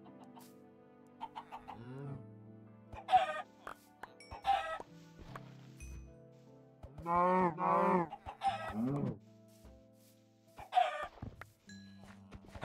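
Chickens cluck in short, scattered bursts in the Minecraft CubeCraft SkyBlock game on a cow and chicken farm, fairly close and clear, with a voice briefly speaking between them.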